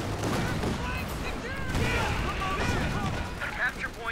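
Artillery barrage in a Company of Heroes 2 match between Americans and Wehrmacht, with rolling booms and scattered gunfire crackle layered over game sound effects and a talking voice throughout.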